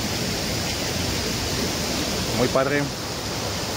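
A waterfall and running water at the cascades of Finca Glamping Las Margaritas make a steady, loud, enveloping rush, while a voice speaks briefly over it.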